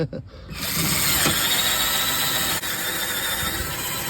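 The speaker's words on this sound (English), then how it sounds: "the cheap drill does not want to do it" A cheap cordless drill whirs in a strained, steady whine after a brief start, its motor labouring with a slight dip near the end, while working on a Mercury car's rear window regulator.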